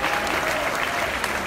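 Loud, steady applause fills a youth award ceremony hall for the Boys & Girls Clubs of Puerto Rico, a continuous wash of many hands clapping.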